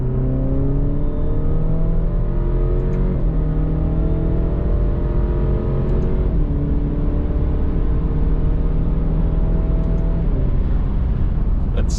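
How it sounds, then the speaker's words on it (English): A turbocharged Alfa Romeo Giulia with a cold air intake and blow-off valve climbs steadily through the gears, its droning whine rising with short dips at each shift and faint whooshing releases. "the cold air intake and the blow-off valve working together with that turbo to just give us a great sound"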